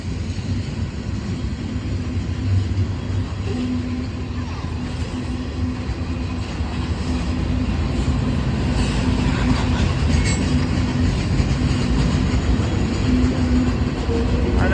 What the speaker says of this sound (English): Yeah, there's the end of Lima train.